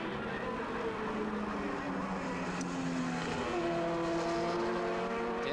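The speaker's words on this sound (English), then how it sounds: "Dennis Ireland into the lead on the RGB Mark 8 Grand Prix bike." RGB Mark 8 Grand Prix racing motorbike at a road race on a wet circuit, engine droning continuously at a distance with rising and falling pitch as bikes pass, steady background roar.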